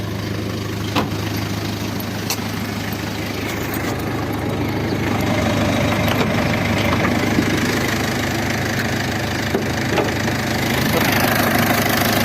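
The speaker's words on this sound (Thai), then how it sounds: "เทอร์โบแล้วครับ จะเสียงดัง เดี๋ยวดับเครื่องก่อนครับ จะคุยไม่รู้เรื่อง" A 2008 Mitsubishi Triton pickup with a turbo idles steadily and close by, giving a constant low rumble with a slight knock that grows a little louder about halfway through, with no talking.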